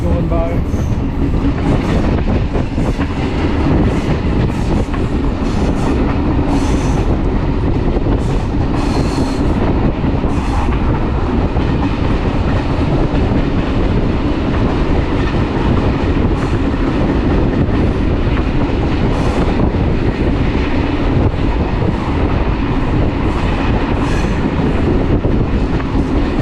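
A train rolls from Durres to Tirana in Albania, with a continuous loud rumble from inside the car, rhythmic clatter over the rails and occasional squeaks and knocks.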